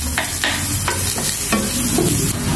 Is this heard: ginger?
yes